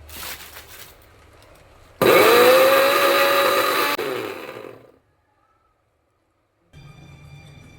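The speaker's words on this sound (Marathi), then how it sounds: "आता इथं मिक्सर लावते." Electric mixer grinder pureeing tomatoes in a home kitchen starts with a loud whirring roar for about two seconds. It then winds down and cuts off, leaving near-silence before faint background noise returns.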